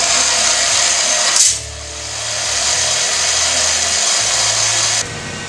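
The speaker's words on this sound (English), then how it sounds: "we're starting to cut up some tubing" A power tool cuts metal exhaust tubing for a Harley-Davidson XG 500 tracker project, loud and close: a harsh high whine, a sharp burst, then a lower grinding drone that ends abruptly.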